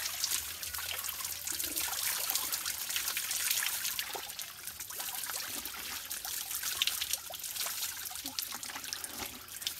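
Free mountain spring water running from a hillside supply used for bathing: a steady trickling and splashing flow, close and continuous, with small irregular drips and gurgles and no talk.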